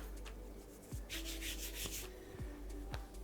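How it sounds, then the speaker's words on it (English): Flour being rubbed by hand over sheets of fresh pasta dough for farfalle, a soft, close dry brushing and swishing in several short strokes with light knocks, no talking. "just rubbing it over like this."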